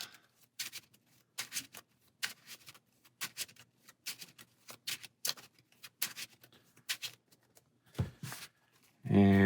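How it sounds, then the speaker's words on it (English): Playing cards being shuffled during a solo Marvel Champions card game: a quick run of crisp riffling bursts with light ticking flips, fairly close, ending in a brief louder rustle, with no talk over it. "shuffle up"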